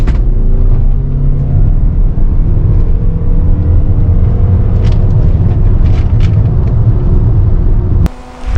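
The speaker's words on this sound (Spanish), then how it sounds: "vamos a pisar freno y acelerador a fondo para que se arranque el motor térmico" The petrol engine of a 2021 Suzuki Across plug-in hybrid runs loud and close, a deep continuous rumble with rising revs and a few sharp knocks, then cuts off abruptly near the end.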